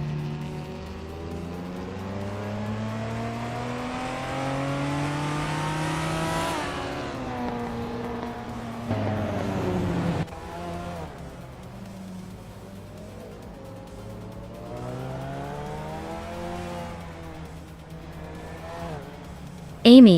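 Race cars in a racing video game rev through rising and falling gear changes, engines droning close and loud with a pass and a brief tire squeal at the end.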